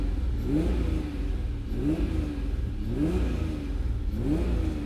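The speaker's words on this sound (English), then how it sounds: "Couple revs here." A badly damaged Acura NSX engine, idling very rich, revs up and settles back down about four times in a steady rhythm, loud and close, over a rough low idle.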